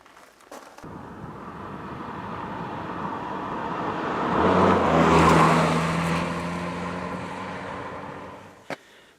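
A single car passes on a road at night, its engine and tyre noise swelling steadily to a loud peak midway, then fading away. The sound stands alone, with no talking.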